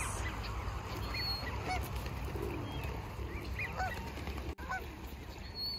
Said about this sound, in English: Look at all the birds and ducks.